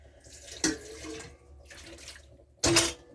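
Water pours and splashes out of a container of washed cranberries in bursts, the first and last rushes loudest and closest, with a softer trickle between, no voices.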